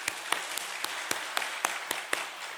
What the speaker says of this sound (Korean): 박수로 축복 우리 하겠습니다.